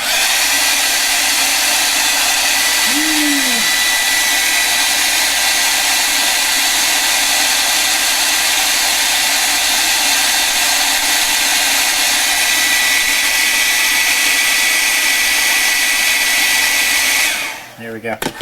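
A hair dryer blows continuously and loud at close range over an art journal drawing, a steady whooshing hum that holds for the whole stretch before cutting off abruptly at the end.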